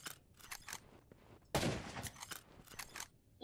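Gunshots in the Rust video game, a quiet scatter of sharp reports with one louder, fuller shot in the middle, and faint movement and scraping around them.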